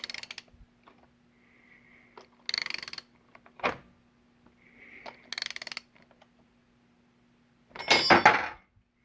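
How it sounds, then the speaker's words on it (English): A ratchet with an extension draws a bushing into a motorcycle swingarm pivot bore, heard as several short bursts of metallic clicking separated by quiet pauses. "I'm going to put an extension on my ratchet and draw it in."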